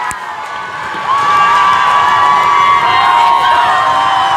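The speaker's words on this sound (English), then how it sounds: "And the crowd goes wild." Loud crowd cheering and whooping fills a youth ice hockey rink right after a goal in a 16U semifinal game, building at about one second and holding steady and dense to the end.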